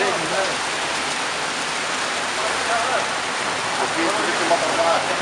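Steady rain pours down over Dammam, Saudi Arabia, a dense, even hiss of drops on surfaces that holds constant and close throughout, with no breaks or thunder.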